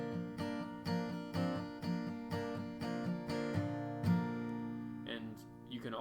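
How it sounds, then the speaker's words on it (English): Acoustic guitar strummed with almost no palm muting for a song, chords ringing steadily through repeated even strokes, close and full, with faint vocal-like tones near the end. "You can do it with almost no muting to where it would sound like this."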